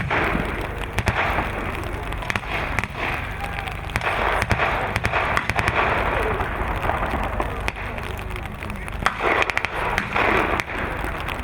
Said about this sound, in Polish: W tym czasie Niemcy otwierają ogień.